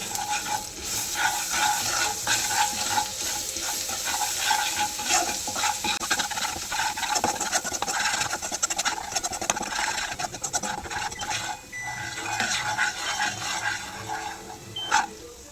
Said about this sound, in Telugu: బాగా మిక్స్ చేసుకోవాలి.